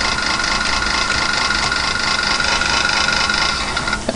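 Chainsaw weapon in the video game Ultimate Doom, a dense buzzing, rattling motor drone that runs continuously at high volume without pause, no voices over it.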